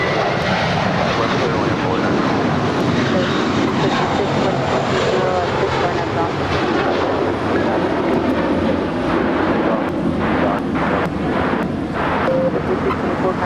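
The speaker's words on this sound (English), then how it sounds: "It's an A321 with JetBlue, flight 324." JetBlue Airbus A321 departing Los Angeles International Airport for JFK, a loud sustained engine roar with a shifting tonal whine, voices talking faintly over it.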